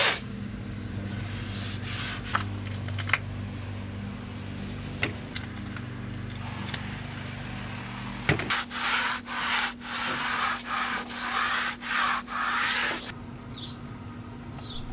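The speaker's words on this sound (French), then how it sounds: "Donc je vais essayer de l'enlever et de poncer proprement et de repeindre." Sanding corrosion off the body of a limousine being renovated as a family car: steady rasping, rubbing strokes that grow more rhythmic in the second half, over a low humming background drone.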